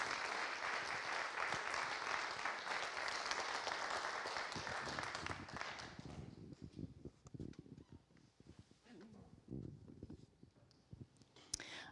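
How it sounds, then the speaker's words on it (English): Audience applause at a conference, loud sustained clapping for about six seconds that then fades into scattered claps and murmuring voices. "let's give them another big round of applause"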